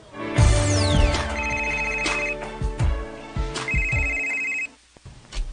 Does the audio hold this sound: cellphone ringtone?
yes